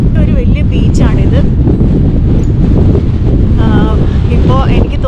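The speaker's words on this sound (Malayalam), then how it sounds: "ഭയങ്കര തണുപ്പും ഭയങ്കര കാറ്റും ആണ് ഇവിടെ." Strong wind roars steadily across a microphone on St Annes beach, a broad sandy shore at low tide, with loud continuous buffeting throughout while someone talks over it.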